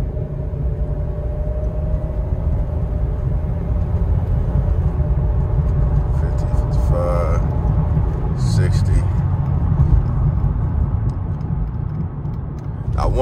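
Steady road and engine rumble from a Chevrolet Impala cruising at about 70 in overdrive on a test drive, with a possible faint power steering whine; a person talks over the continuous drone.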